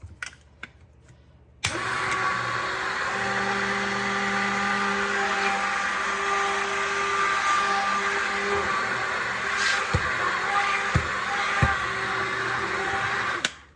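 An electric mixer whirs into action on pumpkin brownie batter, starting abruptly after a quiet moment and running at a steady, loud motor drone with a few clicks and knocks of the beaters against the bowl.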